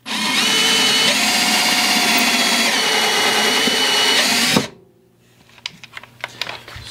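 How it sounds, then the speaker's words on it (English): A steady, loud whirring power drill drives a screw into a wooden crosscut sled continuously for several seconds, then cuts off abruptly, leaving quiet room tone with a few faint clicks and taps. "What I'm going to do is drill over on this corner first, get a screw mounted in this section."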